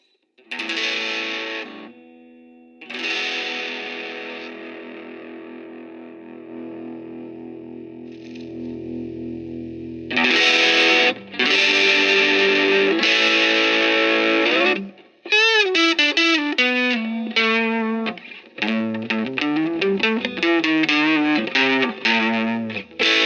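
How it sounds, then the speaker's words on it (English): Electric guitar played through a broken, repaired $35 Marshall tube amp on its boost overdrive channel with gain and volume raised, giving loud distorted sustained chords, then fast driven riffs and single-note runs with no talking. "it takes us into boost, which is the word that Marshall uses for overdrive or dirty channel"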